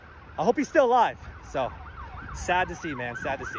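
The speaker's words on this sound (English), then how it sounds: "You can hear the police sirens going off crazy." Wailing police sirens at a shooting scene, rising and falling in repeated sweeping tones, fairly close, with someone talking over them.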